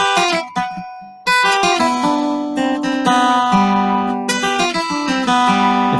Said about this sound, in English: It's kind of an arpeggio, which is sort of a way of voicing a chord